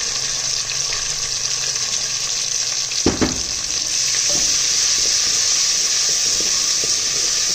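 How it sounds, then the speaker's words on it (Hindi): Loud, steady sizzling and hissing of tomatoes with ginger-garlic paste and spices frying in a hot pan, with a brief clatter of stirring in the middle. "तो हम अच्छी तरह से फ्राई करेंगे"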